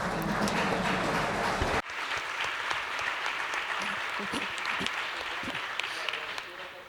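An audience at a panel on the future of housing in Europe applauds, a loud, dense burst of clapping that continues steadily throughout.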